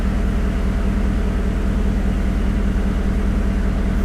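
Steady, loud low drone from a car's aftermarket exhaust held at elevated revs, a dense constant rumble that stays level throughout with no talking.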